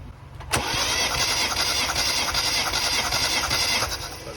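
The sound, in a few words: Mini Cooper S Clubman engine cranking during compression test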